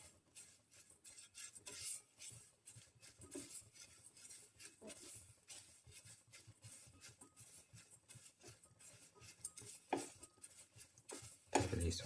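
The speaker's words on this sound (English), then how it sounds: "Keep on sauteing." Rice flakes and cardamom being sautéed in a pan, with faint scraping and stirring of a utensil against the pan in a soft, irregular rhythm, then a louder clatter at the end.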